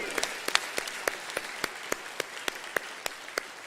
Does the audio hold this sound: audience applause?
yes